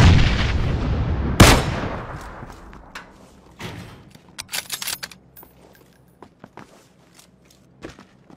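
Sniper rifle fire in a video game: a sharp loud shot near the start, followed by softer thumps, clicks and scattered game sounds fading off.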